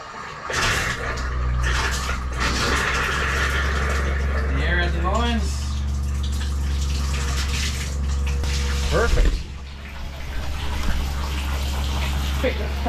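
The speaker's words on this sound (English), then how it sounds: "Let's turn on some water in here." Water gushes steadily from a tap in an off-grid cabin under a low hum, while people talk and briefly exclaim over the rushing flow.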